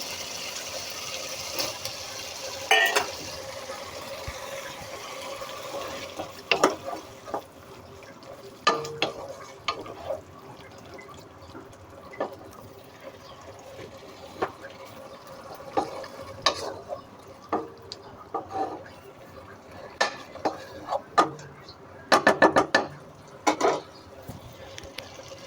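Prawns are added to a pan of crab curry and stirred as the oil sizzles and spatters, giving a steady frying hiss broken by sharp scraping clatters of a spoon against the pan, with a louder burst of stirring near the end.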